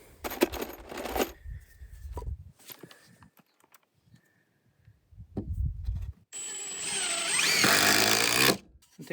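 A power drill drives a screw into wood at a mountain home build site, with short bursts of whirring near the start and a louder, sustained whine near the end, broken by gaps and handling noise.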